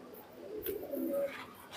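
A pigeon gives a soft, close coo lasting a second or so, with faint rustling around it.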